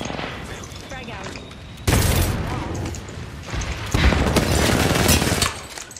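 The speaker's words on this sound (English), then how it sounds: "Throw my grenade out." A frag grenade is thrown and detonates in a battle royale shooter, with loud sudden bursts of explosive noise and gunfire-like chaos, while a voice talks underneath.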